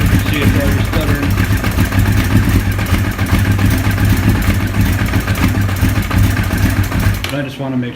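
A motorcycle engine burning off old high-octane gas runs steadily for about seven seconds with a rough, uneven note, loud and close, before cutting off abruptly near the end.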